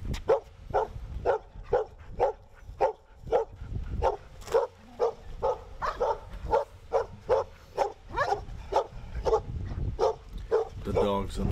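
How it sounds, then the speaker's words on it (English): Dogs bark repeatedly and steadily near a golf tee during a county golf tournament round, a rapid rhythmic volley of close, loud barks continuing throughout, with a few yips mixed in. "with them barking the whole time we're there on that tee like they are"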